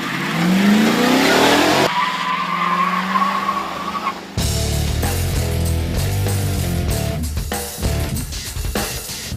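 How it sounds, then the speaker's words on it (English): A Ford Crown Victoria and a Chevy Caprice launch side by side in a drag race with tires squealing. Loud, steady engine roar and rising tire squeal run throughout, ending with a sharp shift in the engine note. "our first event was a good old-fashioned drag race"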